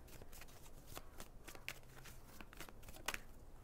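Tarot cards shuffled and drawn, a soft continuous riffle of flicking card edges with a few sharper snaps, close and quiet, no talk.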